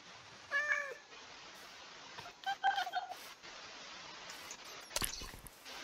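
A cat in the Minecraft video game meows a few times, a short mew followed by a longer cry, then a faint click over a quiet background.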